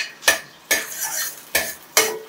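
A utensil scrapes and clinks against the pan four times in an uneven rhythm while cashews fry in ghee. The strokes sound close, over a faint sizzle between them.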